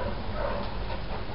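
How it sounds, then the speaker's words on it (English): Two bigger dogs play together, letting out scattered barks, yips and whimpers over a continuous background rumble. "Here's Maggie and Dakota playing, some of our bigger dogs."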